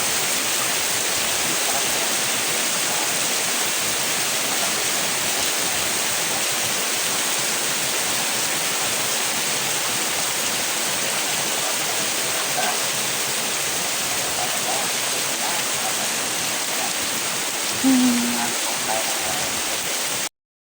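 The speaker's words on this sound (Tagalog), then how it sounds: "Inabutan kami ng ulan dito sa Ermita. Look, lakas ng ulan." Heavy rain pours down at Ermita Hills in Baler, Aurora, a dense, steady roar of falling water that fills the whole stretch without letting up.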